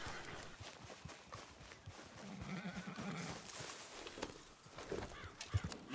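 Horse hooves in the video game Red Dead Redemption, irregular quiet clip-clop beats over faint ambient background, with a brief low snort or whinny near the middle.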